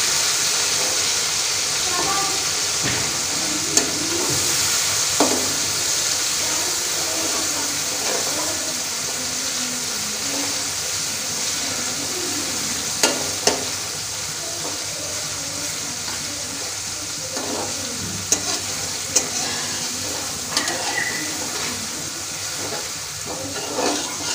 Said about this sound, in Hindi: अदरक लहसुन का पेस्ट इसे दो मिनट के लिए फ्राई करूँगी